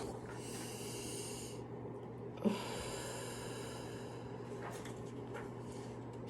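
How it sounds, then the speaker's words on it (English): Slow deep breathing for calming down, with a few long, drawn-out breaths in and out, each lasting over a second and separated by short pauses. The breaths are soft and near, with no talking. "we can do deep breathing"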